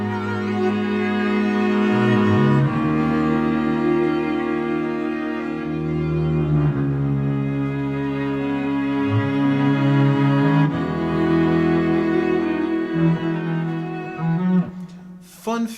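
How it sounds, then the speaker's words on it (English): A layered string section built from individually recorded viola harmony lines, with a low part pitched down an octave to sound like cello and bass, playing sustained chords that shift every few seconds, loud and alone. "I played each line in individually until I got the whole string section"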